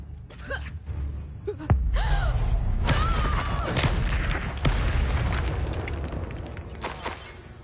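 Spell explosions in Hogwarts Legacy: several heavy booms and bursts over about seven seconds, with magical whooshes between them and a voice gasping and calling out under the impacts.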